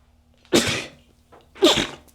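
Two sharp sneezes about a second apart, close and loud, with near silence between them.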